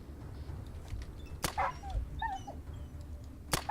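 A dog in the video game Atom RPG whimpers and yelps in a few brief, thin, high cries after being shot, faint under ambient game noise, with two sharp impacts.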